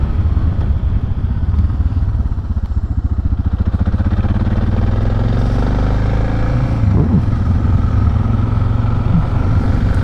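A motorcycle rides along an old dirt road, its engine a loud, close, steady rumble with a slight rise in revs toward the end and no talking.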